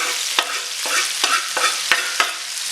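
Peppers and onions dropped into a pan with turkey wings, a constant close sizzle punctuated by about five sharp utensil scrapes and stirring knocks at uneven intervals.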